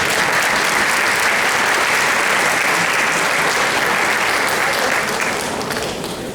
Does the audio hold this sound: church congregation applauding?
yes